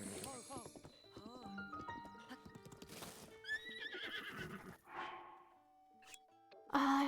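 A horse whinnies twice in the video game Breath of the Wild, with clip-clop hooves and chiming game effects around it, under a talking voice.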